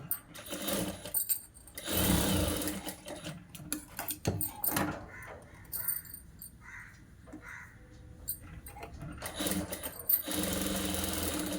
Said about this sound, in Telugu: సైడ్ జాయింట్లు వేస్తున్నాను ఈ విధంగా సైడ్ జాయింట్లు అనేది వేయాలి